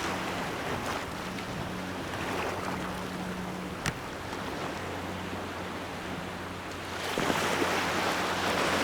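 Choppy ocean water slaps and washes steadily around a boat, with a low engine hum underneath, constant wind noise and one sharp knock partway through.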